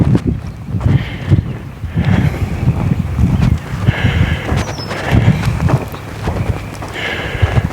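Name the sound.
strong wind blowing across open farm fields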